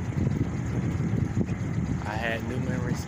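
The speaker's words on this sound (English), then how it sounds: "Very windy day today." Wind sweeps across the upper Nassau River in Florida during a fishing trip, a steady low rumble buffeting the microphone throughout, with a brief voice near the end.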